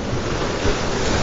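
Ocean surf breaking on a rocky shore during ultralight fishing, a steady broad wash of waves with wind noise against the microphone, continuous and fairly loud.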